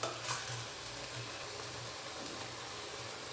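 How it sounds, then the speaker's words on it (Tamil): Mutton haleem mixture with curd being stirred in a pan for a Hyderabad-style dish: a soft, steady sizzle with light scraping of the spoon, close and quiet, with no voices. "எல்லாமே நம்ம மிக்ஸ் பண்ணிக்கலாம்."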